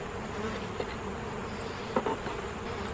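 Honey bees droning steadily at a beehive being fed with sugar syrup, a close, continuous buzz with a few brief louder passes.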